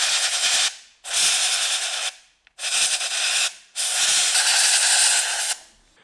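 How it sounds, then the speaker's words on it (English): A can of air duster fires compressed air into the analog sticks of an Xbox controller in four loud, harsh hissing bursts, each separated by a short silence, and the last burst runs longest. "Air duster blows compressed air really strong"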